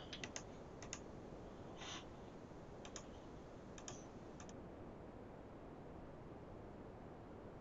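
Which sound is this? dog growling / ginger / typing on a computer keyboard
typing on a computer keyboard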